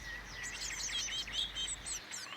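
Blue tit chicks in a garden nest chirp in a dense, continuous overlapping chorus of thin, high begging calls, close and fairly quiet, with no voices.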